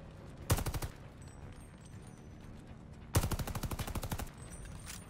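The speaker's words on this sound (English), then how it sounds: "We just dumped like 50 MG bullets in it." Machine gun fire in Call of Duty Vanguard's campaign: two loud, rapid bursts, a short one followed by a longer stuttering string of shots, with quiet ambience between.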